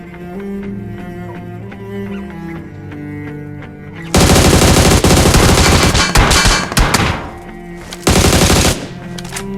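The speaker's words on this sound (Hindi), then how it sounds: "तो आगे से फायरिंग आई और वो देखना बंदा कहाँ बैठा हुआ है।" Gunfire in a video game match bursts in loud, dense automatic volleys after a quieter stretch of game music, with short gaps between the salvos and a final burst near the end.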